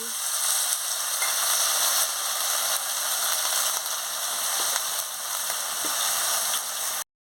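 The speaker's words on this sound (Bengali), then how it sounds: "তেল গরম হয়ে গেছে, আমি বেগুনটা দিয়ে দিচ্ছি।" Eggplant frying in hot oil in a wok, a continuous even sizzle that stays loud and close for about seven seconds before cutting off abruptly, with no talking.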